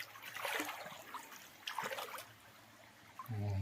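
The Kziv stream in northern Israel trickles and babbles over stones nearby, a faint, uneven gurgle with a low hum rising at the end.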